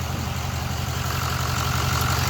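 A Ford 6.0L Powerstroke diesel engine idles steadily on a test run, a close, loud, even low rumble with a constant mechanical hum and no voices over it.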